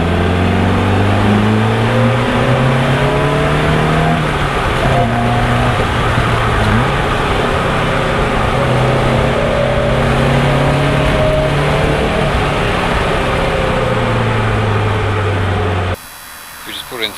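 A racing car engine rumbles steadily as the car pulls into a lay-by, loud and continuous with shifting engine tones, ending abruptly near the close.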